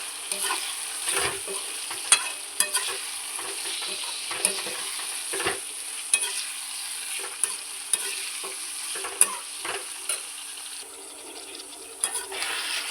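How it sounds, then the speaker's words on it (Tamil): Chicken gravy sizzling and frying in a pan, with a spoon stirring and scraping in repeated, regular clacks over the steady hiss. "அது கூடவே அடுக்கி வச்ச சிக்கன் எடுத்து"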